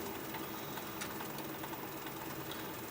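A wood lathe spins a bowl blank at low speed, giving a faint, steady mechanical whir with light rhythmic rattling and no voices.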